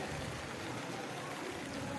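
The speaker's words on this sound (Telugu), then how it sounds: "ఇక్కడ పంపు ద్వారా పోస్తున్నాయి చూడండి వాటర్" Water pouring from a pump pipe into a temple tank, a steady broadband rush like a small stream, continuous and moderately quiet.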